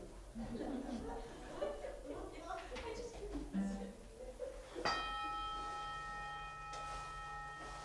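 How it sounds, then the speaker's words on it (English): A chime rung at the start of a Sunday morning Unitarian Universalist church service sounds midway as a bright, sustained bell-like tone that rings on and slowly fades, following murmured chatter and soft laughter in the room. "Now I will ring the chime."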